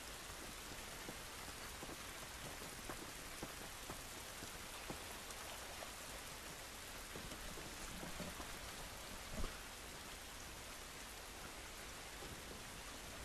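Steady rain pours on surfaces in the video game The Last of Us Part II, a dense, continuous hiss of drops that runs unbroken throughout with no voices over it.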